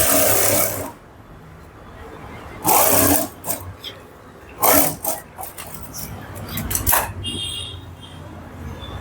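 A sewing machine stitches the front part of a blouse in short bursts of whirring with quiet gaps between runs, fairly close.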